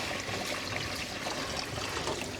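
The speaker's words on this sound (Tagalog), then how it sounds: "Lagyan na po natin ng tubig" Water is poured into a cooking pot, making a short, continuous splashing trickle at close range with no voices over it.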